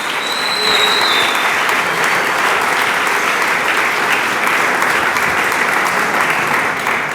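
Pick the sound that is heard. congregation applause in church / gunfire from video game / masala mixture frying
congregation applause in church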